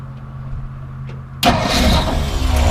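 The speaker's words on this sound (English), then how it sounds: "So we'll go ahead and start it up so you can hear it run." The Denwerks 292 V8 in a 1960 Ford F100 pickup cranks and fires up abruptly, then settles into a loud, rumbling idle close by, after a low steady hum.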